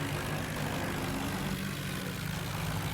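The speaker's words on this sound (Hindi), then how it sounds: "तो दोनों ट्रैक्टर पूरा जोर लगा के बाहर धीरे धीरे बाहर निकल रहे थे" Two tractors strain at full power to drag themselves slowly out of deep mud, their diesel engines droning with a heavy, steady low rumble that continues loud and unbroken throughout.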